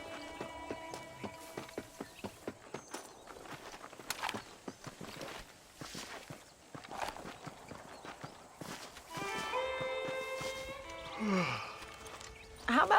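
Horse hooves clip-clopping steadily in the western video game Red Dead Redemption, a rhythmic walking gait heard alone at moderate distance, later joined by ambient ranch sounds and a brief tonal game cue.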